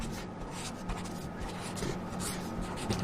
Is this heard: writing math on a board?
yes